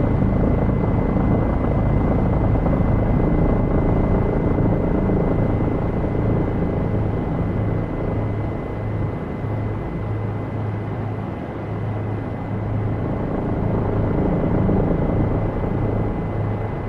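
A helicopter hovers close by during nose-in hover practice over a landing pad H, its rotor producing a loud, steady thumping drone that holds constant throughout.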